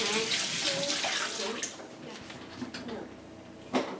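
Running tap water rinses a wet towel at a kitchen sink, a steady broadband splashing with a brief louder surge near the end, under faint background voices.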